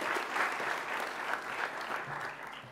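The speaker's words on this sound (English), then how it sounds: "So please join me in a big round of applause for Mr. Worrell." An audience at a high school event gives a sustained round of applause, a dense even clapping heard at moderate distance throughout.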